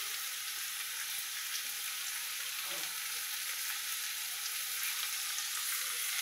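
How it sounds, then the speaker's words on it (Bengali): Pointed gourd fries with poppy seeds in a pan, giving a steady close sizzle with a brief stir partway through and no talk. "এই যে পটলটা পুরো ভাজা ভাজা হয়ে গেছে পোস্তর সঙ্গে"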